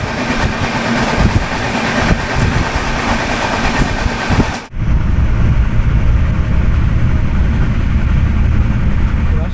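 The Darjeeling Mail train from Sealdah rolls slowly through Naihati Junction without stopping, a loud, steady rail rumble close by that changes abruptly about halfway through and then continues.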